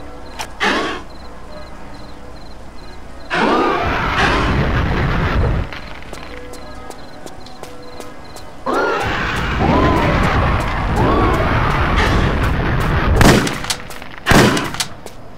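A shotgun loaded with wide shot ammo fires in Tomb Raider: Chronicles: several loud, separate booming blasts spaced across the stretch, some in quick pairs near the end, with quiet gaps between.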